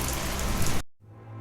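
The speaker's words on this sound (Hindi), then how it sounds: "बाहर बारिश लगातार बरस रही थी" Heavy rain pours steadily outside at night, a dense close hiss of drops that cuts off abruptly partway through, leaving only a faint low hum.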